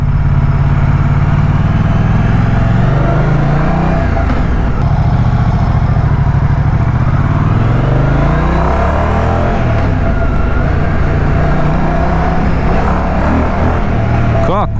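A 2024 Moto Guzzi Stelvio motorcycle engine drones loud and close, its low note climbing and falling through repeated surges of acceleration for the whole stretch.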